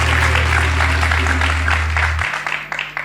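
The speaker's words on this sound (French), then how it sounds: "je voudrais qu'on les applaudisse très fort" Loud, dense applause from a crowd, sustained throughout with steady clapping that begins to thin slightly near the end.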